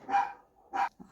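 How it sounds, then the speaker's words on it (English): A dog barks indoors, two fairly loud barks a moment apart followed by a short soft yip, with no talk. "sorry for the dog barking."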